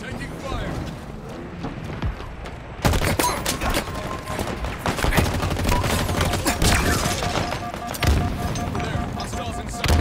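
Rapid gunfire and explosive bursts from a Halo Infinite multiplayer match erupt at close range, dense and continuous after a quieter opening, with game voice callouts mixed in.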